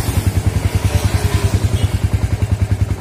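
A Yamaha Vixion Old motorcycle engine idles at low RPM just after starting, a steady, close, rapid low thumping pulse with slight clatter, holding an even rhythm throughout.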